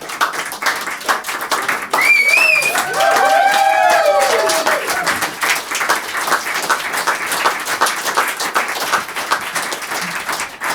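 A concert audience at the URSA venue in Montreal applauds after a Les Cousins tribute set, with loud sustained clapping, a few whistles near the start, and the ovation continuing strongly throughout.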